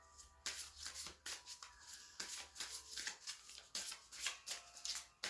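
Tarot cards are shuffled by hand in a quiet room, a run of soft riffling bursts and brisk flicks coming in irregular bunches, close and fairly quiet with no talking.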